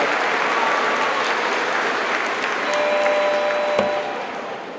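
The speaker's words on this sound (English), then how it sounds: "If we all give them a round of applause" Audience at an eighth grade graduation ceremony clapping in a steady, full round of applause that holds evenly, then begins to fade near the end.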